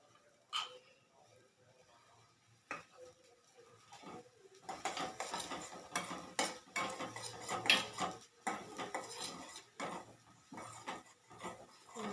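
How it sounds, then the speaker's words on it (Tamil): Semolina (rava) being dry-roasted in a pan for payasam, with a spoon stirring and scraping the pan in repeated clinks and scrapes that grow busier and louder after the first few seconds. "இது ரவை கொஞ்சம் செவக்க இது பண்ணிக்கணும்."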